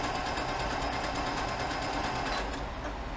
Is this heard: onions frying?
no